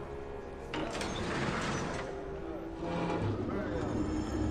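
Heavy doors being hauled up for a shipment, a sustained rumbling mechanical slide with rattling and scraping, moderately loud over a low background hum.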